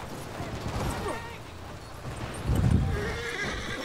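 Horses whinny and clip-clop in the World War I multiplayer shooter Battlefield 1, a loud neigh surging amid hoofbeats, mechanical clatter and distant gunfire, with a voice talking over the mix.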